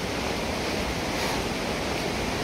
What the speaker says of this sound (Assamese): পিছফালে আছে শব্দ পাই আছে চাগে পানীৰ শব্দ